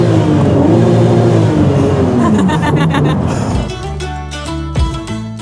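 A car engine bouncing off the rev limiter, loud and close, with sustained high revs breaking into rapid stuttering cuts toward the end.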